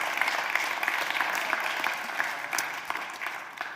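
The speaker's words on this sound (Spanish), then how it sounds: "De un aplauso de gozo en el nombre de Jesús." A church congregation claps steadily in sustained, dense applause filling the room, with a few faint voices mixed in under the clapping throughout.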